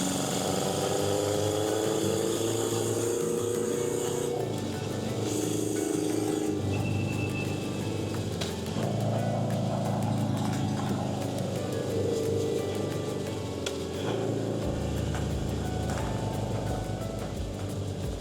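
A Honda CB750 café racer motorcycle rattling over Portuguese cobblestones on a mountain ride, with a steady engine drone and continuous rumbling road and suspension noise, loud and close throughout.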